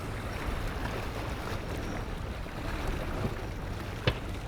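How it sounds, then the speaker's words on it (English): Water laps and washes softly against a harbour wall at Port Andratx, Mallorca, under a steady wind rush, a gentle continuous surf with no voices. "Today it's more of a gentle"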